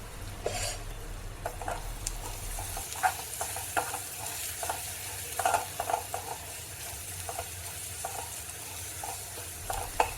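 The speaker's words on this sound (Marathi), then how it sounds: "कंटिन्यू मसाला छान असा परतून घ्यायचा आहे" Spice masala stirred and sautéed in hot oil for a spicy urad dal curry, a soft steady sizzle with a spoon scraping the pan in irregular taps, close and without talk.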